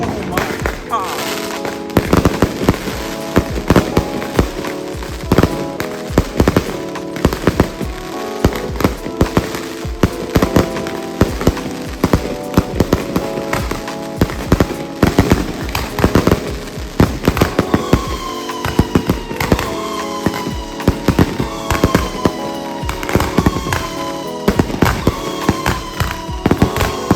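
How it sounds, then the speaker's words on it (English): Fireworks bursting overhead in BGC, Philippines, a dense rapid barrage of loud cracks and booms with crackling trails, while a person exclaims at intervals. "Can you feel the rain of debris from the fireworks?"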